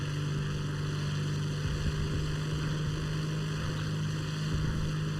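Steady propeller drone of a Tempest fighter plane engine accelerating in War Thunder, a continuous loud buzzing hum with a strong low tone and rushing air, alone without speech.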